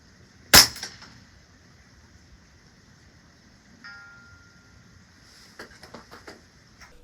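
A single sharp crack from a .22 Long Rifle shot fired at a 500-yard target, loud and abrupt, followed by near-silence and a few faint clicking ticks later on, with no talking.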